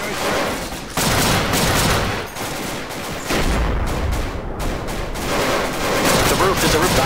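Heavy suppressive gunfire pours into a building, with dense overlapping bursts and loud bangs that run almost continuously, close and intense, while voices shout beneath the shooting.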